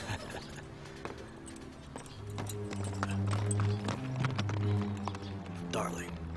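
Horse hooves clip-clop at an unhurried pace, the irregular knocks mixed with a low sustained musical tone and people talking over them.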